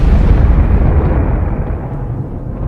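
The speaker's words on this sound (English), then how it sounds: "blasted by a violent explosion, a supernova" A supernova explosion rendered as a deep, continuous roar with heavy low rumble that fills the whole stretch, loud and steady, slowly easing off toward the end with no voices.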